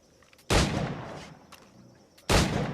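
Two loud gunshots, well apart, each a sharp crack that fades into a long rumbling echo, with quiet between them and no voices.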